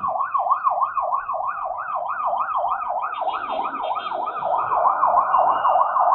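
An ambulance siren wails steadily and loudly from behind a motorcycle riding along Commonwealth, its rising-and-falling tone repeating throughout over a low rumble of traffic and engine.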